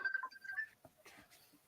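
Telephone keypad dialing tones come through a call microphone, a quick run of faint beeps followed by soft muffled noise.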